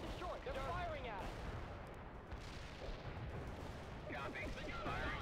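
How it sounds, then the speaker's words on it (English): Continuous gunfire and artillery fire in the World in Conflict: Soviet Assault real-time strategy game, a dense unbroken barrage of shots and booms with radio-style voice chatter running over the battle throughout. "They're firing at us."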